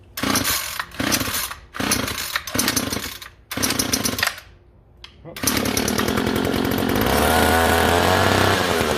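A two-stroke engine under a run-to-death test, several rapid stuttering bursts and revs that then catch and settle into a loud, continuous high-revving drone at full throttle.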